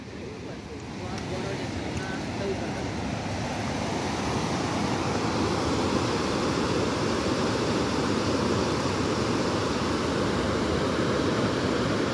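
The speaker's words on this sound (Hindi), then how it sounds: "इस साइड जो वाटरफॉल से पानी आ रहा था वो भी मैं आपको दिखा देता हूँ।" Raneh Falls waterfall in Madhya Pradesh, near Khajuraho, in a rocky canyon, its water pouring down in a steady, broadband roar that holds loud and unbroken throughout, with no voices.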